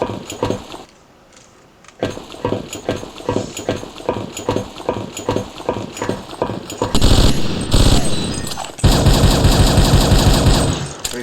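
Rapid repeated gunfire from weapons in the 1999 video game Half-Life, a loud rhythmic volley of shots that gives way to denser continuous bursts toward the end.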